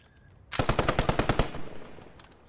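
A burst of about ten rapid, evenly spaced machine-gun shots rings out loud and close in the World War II shooter game Post Scriptum, then trails off into a fading echo.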